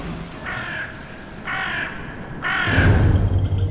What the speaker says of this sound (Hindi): रात में कौवे का का का ऐसा चीख रहे थे।